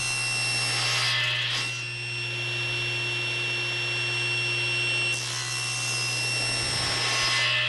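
A saw cutting quarter-inch slices of wood, a steady close grinding, rasping drone with two brief dips between cuts, loud and continuous without talk.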